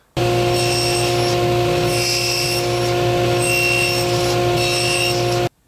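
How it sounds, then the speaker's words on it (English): A table saw fitted with a crosscut blade squares off the end of wood stock, a loud steady whine with a constant hum that starts abruptly, holds for several seconds with slight changes in grit as the blade bites, then stops sharply. "put a crosscut blade in your table saw and square off one end of your stock"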